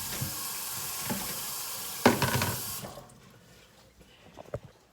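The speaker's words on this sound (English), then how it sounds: "So, I put a little bit of water in there." Water poured from a container into a pot of vegetables for homemade chicken noodle soup, a steady splashing pour that swells briefly near the middle and then stops, leaving quiet kitchen sounds.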